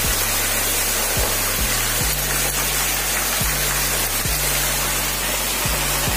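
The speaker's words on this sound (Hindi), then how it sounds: "हाँ नीचे से वाला पाइप है जहाँ से ऊपर से पानी आ रहा है" Water pours steadily down from a pipe outside a house, a loud, continuous rushing splash with no talking, holding level throughout.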